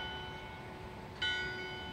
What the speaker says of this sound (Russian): И вот колокольный звон.